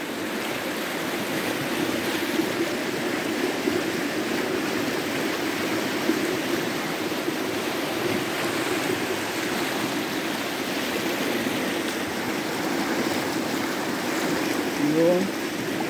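The Banias stream, a tributary of the Jordan River in the Hermon reserve, rushes steadily in a broad, continuous wash of flowing water, loud and close throughout with no pauses.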